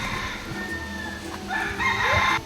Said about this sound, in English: the chickens that are so rampant here in Kauai seem oddly at home here in the forest.